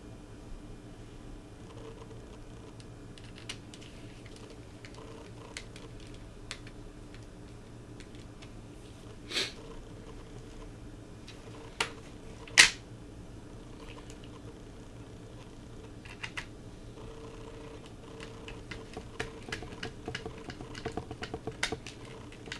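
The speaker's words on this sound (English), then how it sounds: "Now you put in all the screws again." Small screws are driven back into the casing of an original Nintendo Game Boy, making faint, scattered ticks and light clicks against a quiet background, with a few sharper taps mixed in.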